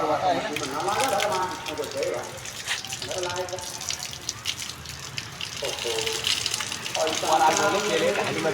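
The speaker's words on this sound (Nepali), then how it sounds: "नन्दीको मुखबाट चाहिँ पानी खामै" Water gushes and splashes steadily from a Nandi statue's mouth throughout, a continuous pouring stream close by, with voices talking over it at times.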